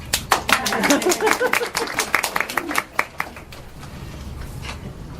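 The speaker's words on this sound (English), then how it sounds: "Now we can clap." Scattered clapping from a small audience at a school board meeting, many quick hand claps bunched together for about three seconds before thinning out into quiet room noise, with a voice nearby.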